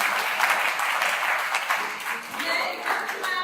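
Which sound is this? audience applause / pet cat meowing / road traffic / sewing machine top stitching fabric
audience applause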